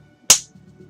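A single sharp clap made with the back of a hand, one crisp close slap that decays quickly, over faint low background hum.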